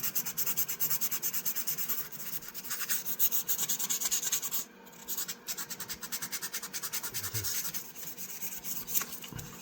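A vintage knife handle is rubbed with 180-grit sandpaper in close, steady back-and-forth strokes, a dense rhythmic scratching that pauses briefly midway and then resumes.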